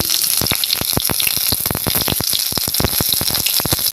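Whole cumin seeds sizzle in hot mustard oil, a steady close crackle of rapid pops and hiss that runs on without pause before cutting off at the end.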